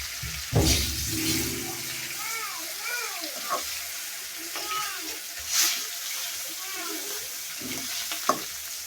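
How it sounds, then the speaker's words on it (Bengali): Rohu fish pieces sizzle and crackle in hot oil in a village kitchen, a steady close frying hiss with occasional louder pops and spatters, broken by brief stirring clatter. "তো রুই মাছ যে ভাজতেছি এখানে"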